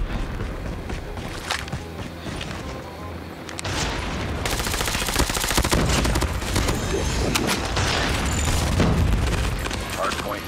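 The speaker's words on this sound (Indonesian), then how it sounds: "bom dari mana Pak De? Cepat sekali meledaknya." A bomb blast in the Call of Duty Mobile shooter erupts amid dense, continuous gunfire and booming impacts, a loud, sustained barrage of battle noise with talk mixed in.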